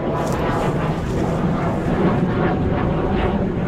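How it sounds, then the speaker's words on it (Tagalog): Fighter jets flying overhead near a river, a broad steady roar that fills the whole stretch without easing, with no talk over it. "grabe yung mga aeroplano"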